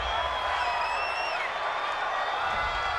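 A home stadium crowd at a 49ers–Eagles football game roars steadily after a pass interference call, a dense continuous wash of cheering with a few whoops rising above it.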